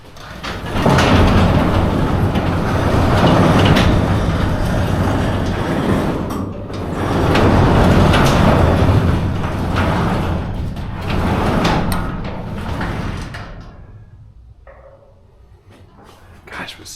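An Amarr garage door rolls along its track rollers in a rumbling, rattling run that surges and eases for most of the stretch, then fades toward quiet at the end; a person speaks faintly beneath it.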